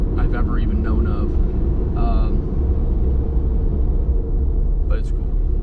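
The low, steady rumble of a small turbocharged 63-horsepower car engine runs continuously while driving, with brief higher tones over it and a faint turbo whistle near the end.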